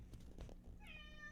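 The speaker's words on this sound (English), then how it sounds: "It's time for you to be a loud-ass cat." A house cat gives a clear, fairly loud meow near the end, a rising and falling tonal call heard alone after a moment of low background noise.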